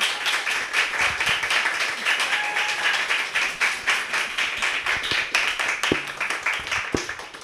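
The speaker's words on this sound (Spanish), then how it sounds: "Un aplauso, por favor, para Milagros." A live podcast audience applauds a guest at the end of a recording. Many hands clap in a bright, continuous patter with a rhythmic pulse, and a few sharper claps stand out near the end.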